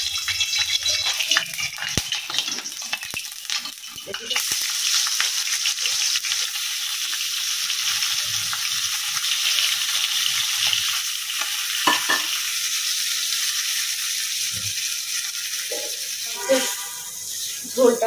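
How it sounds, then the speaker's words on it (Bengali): Tripe curry with garam masala, ginger, garlic, turmeric, chili, cumin, onion and salt sizzles and bubbles in a pan, with steady frying hiss and occasional stirring scrapes, close and continuous. "এখানে ভুড়ি কেনা গরম মশলা, আদা রসুন হলুদ মরিচ জিরা পেঁয়াজ লবণ সব দিয়ে বসাই দিলাম"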